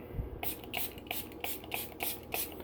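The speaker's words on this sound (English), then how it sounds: "this is just peroxide. I'll just spray it on, leave it on for a minute." A hand spray bottle mists hydrogen peroxide onto aquarium plants in about seven quick, evenly spaced hissing bursts, close to the microphone and quiet.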